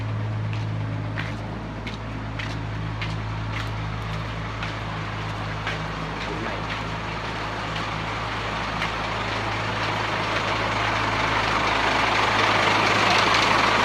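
A truck idles nearby with a steady low engine rumble, then settles as it parks at a longan packing site, with faint clicks and knocks scattered over the drone.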